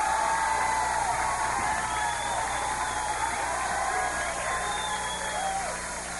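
A studio audience at a live television debate show applauds and cheers in a steady, loud, continuous wash of clapping with crowd noise and whoops throughout.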